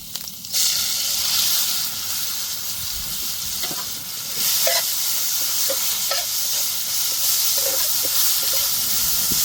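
Chopped onions sizzle loudly in hot oil with cumin and asafoetida in a pan for a spicy fried okra dish, a steady close hiss with a few soft stirring clicks.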